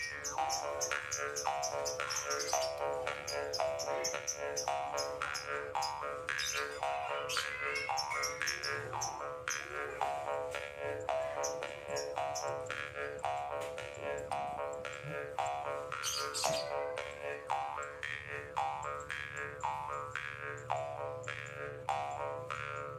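A karinding mouth harp played at a pesantren imitates a cicada's call with a rapid, continuous buzzing twang that pulses steadily and evenly throughout at a fairly soft level.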